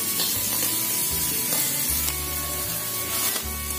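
Spice paste sautéing in a frying pan hisses and sizzles steadily, with scraping stirring strokes across the pan and a low music bed underneath.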